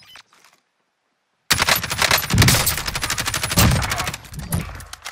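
Automatic gunfire in the video game Warzone erupts after a brief silence, loud rapid bursts of shots rattling on for several seconds with a few heavier thumps mixed in.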